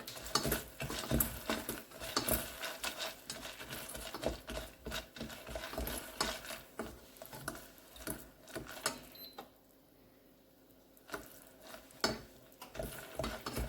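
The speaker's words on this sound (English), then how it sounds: "And then we'll add our popcorn and stir." Popcorn kernels are stirred in a pot before popping, giving irregular close scraping and rattling strokes in uneven bursts, with a brief quieter pause partway through and no talking.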